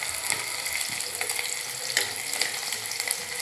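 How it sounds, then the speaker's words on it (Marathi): Onions frying in a pan until brown, a dense close sizzle with crackling pops and occasional stirring, steady and fairly loud throughout without talking. "कांदे ब्राऊन होईपर्यंत आपल्याला ते तळून घ्यायचे."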